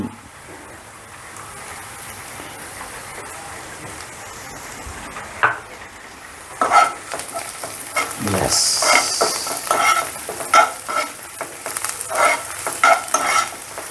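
Mutton fries in a pan under vigorous stirring, with a loud, close sizzle and rhythmic scraping strokes that grow busier in the second half.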